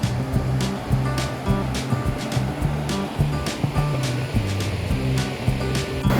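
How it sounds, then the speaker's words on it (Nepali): A rushing mountain stream flows steadily below a hiking trail during the monsoon, a constant broad roar of water with faint rhythmic knocking close by and no voices. "यहाँ तल खोला।"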